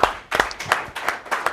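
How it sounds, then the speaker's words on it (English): Studio audience clapping, a handful of close, distinct claps landing in a loose rhythm about every third of a second, fairly loud and sharp rather than a full crowd roar. "Big round of applause for them"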